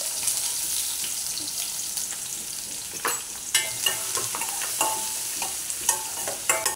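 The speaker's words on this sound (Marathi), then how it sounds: "आता कांदा टाकते।" Chopped onion sizzles in hot oil with mustard seeds and cumin in a pan for a wet cashew curry. A steady close frying hiss runs throughout, punctuated by repeated scraping stirs.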